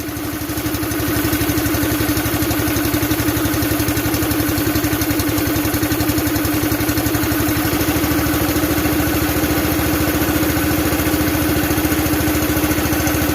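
Gas engine on a CH Extreme air compressor just after starting, running loud and close with a steady rapid clattering pulse.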